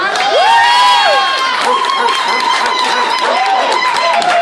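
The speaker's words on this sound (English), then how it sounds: "One more round of applause for our amazing singer right there." A comedy open-mic crowd in Kuwait cheers and claps loudly for a singer, with high whoops and shouts over steady applause throughout.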